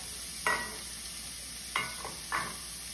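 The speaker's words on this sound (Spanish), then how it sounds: "pongo dos cucharadas de ghee y vamos a añadir la cebolla" Chopped onion and garlic in hot ghee in a pot sizzle quietly under three short, scraping stirs spaced about a second apart.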